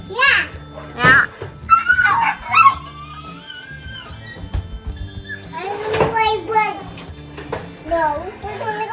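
A dog yips, barks and whimpers close by while young children chatter over and between the dog's sounds.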